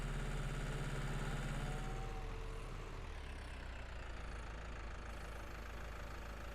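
A tractor engine idles on a hill in Farming Simulator 19. The low, steady mechanical hum holds constant and fairly loud throughout, with a slight shift in tone partway through.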